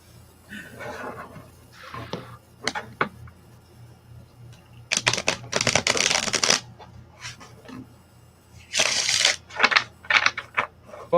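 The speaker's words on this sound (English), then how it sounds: "napaka ASMR nung pag-shuffle ng cards" Playing cards being shuffled nearby in short crisp riffling bursts, several separate shuffles with pauses between and two louder, longer riffles, heard alone without talk.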